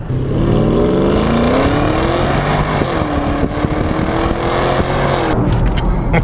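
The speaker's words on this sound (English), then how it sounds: "Yeah, you've got to love a V8 sound." An original Porsche Cayenne S V8 revs hard, its loud engine note climbing in pitch, holding, then dropping off near the end, close and without talk.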